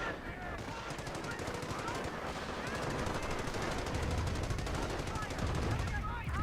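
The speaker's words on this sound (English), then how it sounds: "Danger close Nebelwolfer barrage going down." Nebelwerfer rocket barrage in a World War II video game: continuous loud rattling gunfire and explosive rumble with whistling rocket streaks, a dense battlefield din throughout.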